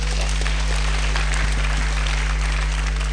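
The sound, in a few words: congregation clapping for Jesus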